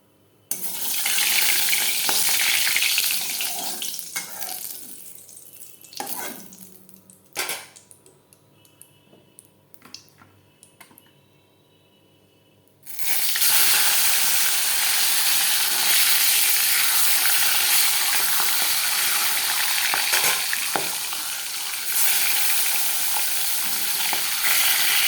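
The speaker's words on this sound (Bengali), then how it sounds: "মাছ ভাজা হচ্ছে।" Fish, including rohu-type katla, fries in oil in a pan on a home kitchen stove, loud crackling sizzle that drops away in the middle for several seconds with faint clinks, then returns strong and steady.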